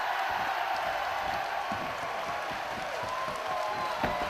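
A wrestling crowd roars and cheers at a 2006 1PW tag team match, a dense and continuous wash of noise from a large audience with no clear breaks.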